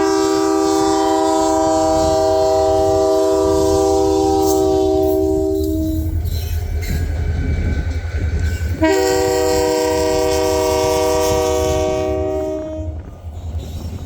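A former CN SD40 locomotive hauling vintage Prairie Dog Central passenger coaches passes close by, sounding two long, loud horn blasts over a steady rumble of rolling wheels.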